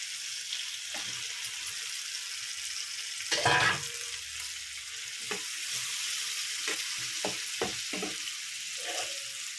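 Prawns go into a pan of softened onions and tomatoes, with a burst of sizzle followed by a gentle steady frying hiss and occasional spoon scrapes and taps nearby.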